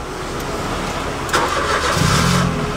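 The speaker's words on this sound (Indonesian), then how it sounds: "mobil di start," A Suzuki Splash hatchback that suffers sudden stalling; its engine cranks and catches, the steady running hum rising slightly in level midway, with no talk over it.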